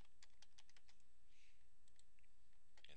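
Quick bursts of keystrokes come from a computer keyboard as a starting station is typed into road superelevation software. The clicks are soft and fairly close against a quiet background, with short pauses between bursts.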